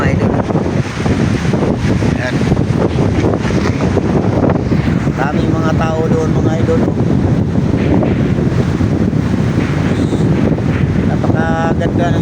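Strong seashore wind at low tide buffeting the microphone in a loud, constant roar, with someone talking over it now and then.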